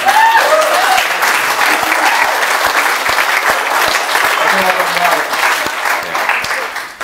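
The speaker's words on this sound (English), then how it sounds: "Ladies and gentlemen, a big round of applause for Sam and Connie Johnson." A live audience claps loudly throughout a Q&A event with a film actor and guests. The clapping is dense and sustained, with faint voices mixed in, and it tapers off slightly near the end.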